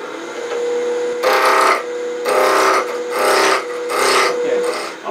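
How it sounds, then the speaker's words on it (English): A wood lathe turns an Easter bunny figure, giving a steady rasping hum with a pitched tone throughout, swelling into louder scraping bursts about four times as the tool cuts the spinning wood. "Now let's finish turning it round."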